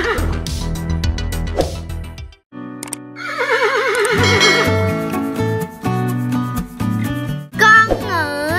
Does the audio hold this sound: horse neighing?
yes